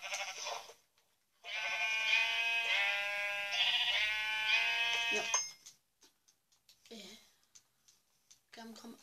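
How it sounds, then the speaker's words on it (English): Sheep bleating in the Minecraft video game, a long sustained bleat with harmonic layering lasting several seconds, then brief scattered sounds afterward. "Oh, I found a sheep."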